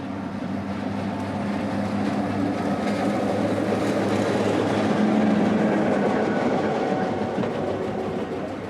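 A Florida Northern Railroad train rolls slowly along the track near a plant crossing, giving a steady low rumble with faint rail rattle throughout, fairly close and unbroken, with no voices.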